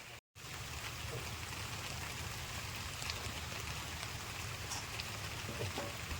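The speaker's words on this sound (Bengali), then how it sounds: "বৃষ্টির জ্বালায় বাইরে দাঁড়ানোই গেল না" Rain falls steadily outside a village house, a dense continuous patter and hiss with a brief dropout near the start, otherwise unbroken and even.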